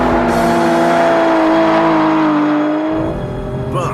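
A car engine, fitted with Pirelli tyres, revs and drones steadily up close, its pitch holding then easing down before fading slightly near the end.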